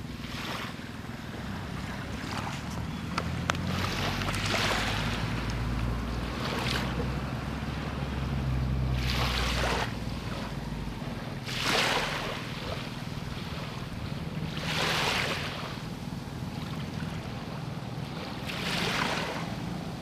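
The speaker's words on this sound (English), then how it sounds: "I'll leave you with the sound of the ocean." Ocean waves break at a beach in Viana, Ilhabela, in slow repeated surges over a constant wash, with steady wind buffeting the microphone and no voices.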